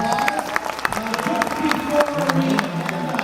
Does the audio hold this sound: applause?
yes